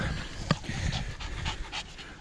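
A newly adopted dog pants in quick, steady breaths close by during a walk into a forest, with one brief louder sound near the start and no speech.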